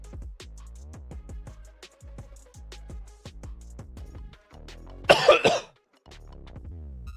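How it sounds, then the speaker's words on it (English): A single weak, brief cough rises over a background of faint rhythmic clicking, with a short burst of rough breath sound that fades quickly. "No, that was the most pathetic cough ever."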